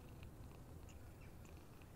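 A cat in the video game Summer of 58 gives faint, brief mewing calls over a low, steady ambient drone, with no talking.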